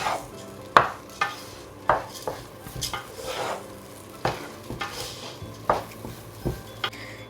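Coriander leaves stirred into prawn biryani masala in a metal pot, with a spoon clanking against the sides in irregular knocks over a low sizzle, close and fairly loud.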